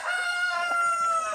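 A rooster on a poultry farm lets out a single loud, sustained crow close by, with no one talking.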